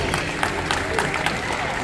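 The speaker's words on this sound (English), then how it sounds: "Round of applause for our trees" Steady applause from a crowd at an animal show, dense clapping that holds level throughout with a few sharper claps standing out.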